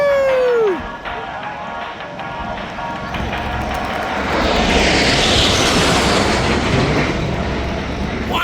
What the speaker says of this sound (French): Ah, il y a les avions qui arrivent.